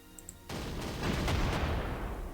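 A Sd.Kfz. 7/2 flak half-track fires in the WWII strategy game Panzer Corps Gold: one sudden blast after a quiet start, then a dense, sustained roar of rumbling explosion noise that slowly fades.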